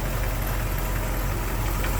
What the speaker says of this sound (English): Again, nice running engine.